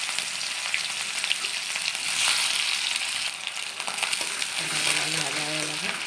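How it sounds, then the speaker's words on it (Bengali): Onion frying in hot oil in a wok, used earlier for frying egg, gives a steady bright sizzle with small crackles and a few stirring scrapes, close and fairly loud throughout. "এবার পেঁয়াজটা ভেজে নেবো লাল লাল করে"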